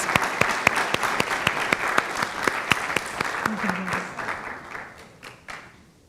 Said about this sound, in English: Ladies and gentlemen, a nice round of applause.